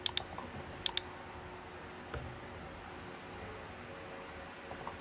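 Typing on a computer keyboard while copying text for a blog article, with a few sharp key clicks at the start and a scattered tap or two later over a steady faint hiss.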